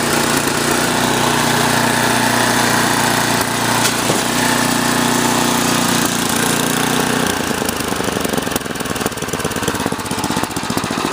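An MTD 8HP snowblower engine runs steadily and loudly up close while the machine drives, with the drone turning rougher and more clattery partway through, and no talking.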